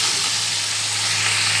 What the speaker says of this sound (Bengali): কিন্তু মাংসটাকে নাড়াচাড়া করা হয়ে গেছে।